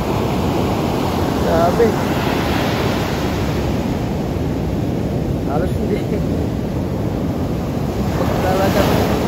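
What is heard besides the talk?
strong ocean surf waves at Morong, Bataan beach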